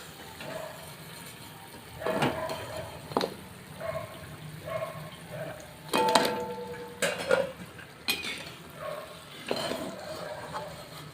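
Fried khari pastries are lifted out of hot frying oil with a metal utensil, producing scattered clinks and scrapes against the pan over a faint sizzle, with no talking.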